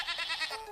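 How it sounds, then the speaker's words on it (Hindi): A goat bleats once in a short, wavering, nasal cry, close and clear with no other sounds around it. "अगले दिन सुबह एक बकरी चरते चरते उस पुराने कुएं के पास पहुंच जाती है"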